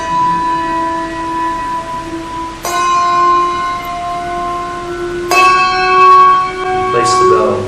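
A handbell rung three times at a steady interval, each strike a bright, clear ring with long sustained overtones that overlap and fade slowly.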